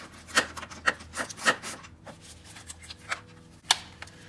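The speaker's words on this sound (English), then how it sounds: "We're just gonna use your ratchet and a size 10 socket." A ratchet with a size 10 socket and an extension works a bolt loose on a Ford Focus during motor mount replacement, a close series of quick rasping clicks in uneven bursts with short pauses.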